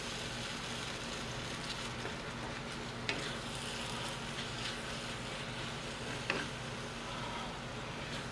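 Onion sauce sizzles and bubbles in a pan as it is stirred, a steady frying crackle with a couple of faint utensil scrapes and taps.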